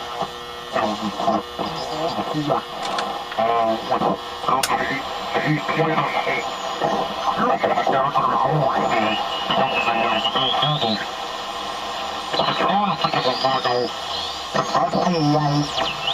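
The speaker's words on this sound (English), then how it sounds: "Very, very, very, very hard to tune sideband on this radio." Garbled, warbling voices come from a shortwave radio mistuned on sideband, with whistling tones sliding up and down over steady static.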